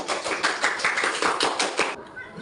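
A classroom of students claps together in a quick, rhythmic burst of sharp, close hand claps for about two seconds, then stops abruptly into quiet room tone.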